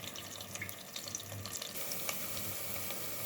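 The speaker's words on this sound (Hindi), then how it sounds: "नीचे से फुल फ्लेम करके हमने शैलो फ्राई करना है प्याज को" Onions shallow frying in a pan over a full flame, giving a steady, faint sizzle and crackle with scattered pops, heard alone without talk.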